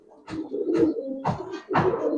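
Giribaz pigeons, a silver pair, cooing in soft repeated throaty bursts, close and fairly loud, with no talk over them.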